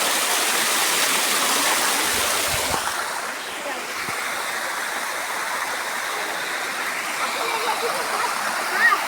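An artificial waterfall at Swapnapuri park pours in an unbroken, broadband rush that softens slightly midway, with a few low knocks and handling bumps over the steady flow.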